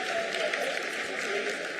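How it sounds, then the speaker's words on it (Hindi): Brief, dense applause fills mission control during the Chandrayaan-3 lunar landing's vertical descent phase, a steady wash of many hands clapping at moderate volume for under two seconds. "Lot of applause indicates that till now the performance has been nominal."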